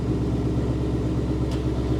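A 2020 Ford Mustang Mach 1 with a Corsa cat-back exhaust and its valves open, giving a steady deep rumbling idle, close and even throughout.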